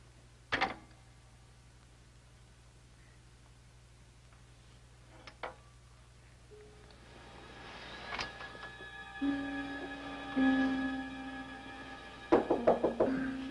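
A knock on a door at night, a few sharp raps at the start with a lone tap later, followed by a thin, tonal mechanical whirr and a few closing clicks.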